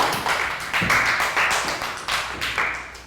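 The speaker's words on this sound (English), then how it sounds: "Round of applause for Prel and a high five" A small classroom group of pupils claps for a classmate in a Year 3 maths lesson, with several short, uneven bursts of hand claps close by and no clear talk.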